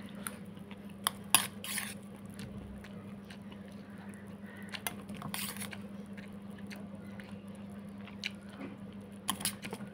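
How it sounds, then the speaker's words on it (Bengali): Crunchy puffed rice (muri) being chewed alongside tea, with intermittent close bites and chewing plus small clinks of dishes over a steady low hum, no talking. "এখন খাচ্ছি চা মুড়ি।"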